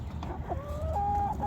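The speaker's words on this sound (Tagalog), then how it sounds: "Sa tuwing tuka niya ng pagkain, tinatawag niya yung mga inahin." A rooster clucking rapidly to call hens to food, a short run of close, clear throaty notes ending in a higher drawn-out call.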